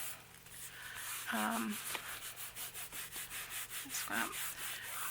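A hand rubs glued paper flat onto a handmade journal, making a soft rhythmic scuffing and swishing close to the mic. Brief bits of quiet voice come in partway through.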